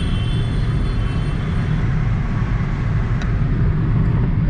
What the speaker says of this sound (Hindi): ये दिल्ली गुड़गांव हाईवे है और 5वें गियर पे गाड़ी चल रही है